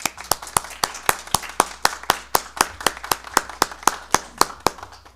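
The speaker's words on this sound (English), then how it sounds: "but I would like to give them a round of applause." Steady, evenly spaced claps at a board meeting, each one sharp and distinct in a regular rhythm, sounding like a few people close by rather than a large crowd.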